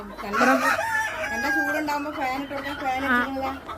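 Chickens, with a rooster among them, crow and cluck close by in a poultry farm shed fitted with roosting perches and fans, one long crow running under and alongside a person talking.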